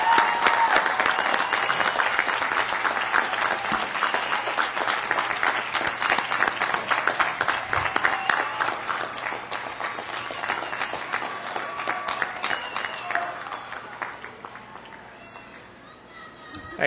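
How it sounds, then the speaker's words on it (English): Sustained applause from a large audience at a college commencement ceremony for hospitality management graduates, dense steady clapping filling the hall for about fifteen seconds before tapering off near the end. "well-deserved round of applause"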